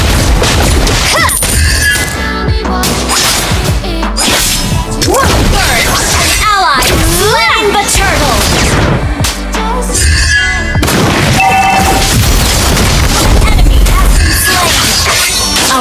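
Dense, loud Mobile Legends battle effects in which a turret is destroyed: booming blasts, crashes, whooshes and zings pile up continuously, with game announcer voice lines mixed in.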